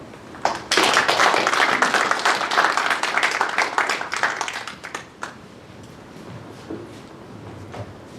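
A crowd at a founding ceremony breaks into warm applause, a dense burst of clapping that starts suddenly, holds for several seconds and then thins out to scattered claps and quiet room noise.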